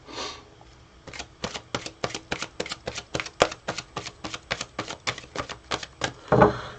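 Tarot cards being shuffled by hand, a quick, even run of about eighteen crisp, close taps and flicks, ending in a short rustle, with no talking.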